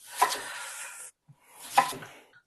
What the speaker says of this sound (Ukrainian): дрібню дуже такими такими маленькими, не дуже великими кусочками, шматочками